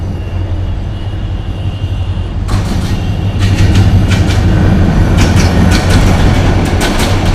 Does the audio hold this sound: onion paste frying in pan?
no